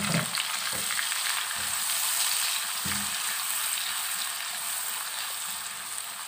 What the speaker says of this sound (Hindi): और ये मसाले हम भूनेंगे